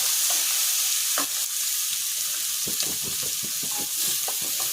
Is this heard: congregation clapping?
no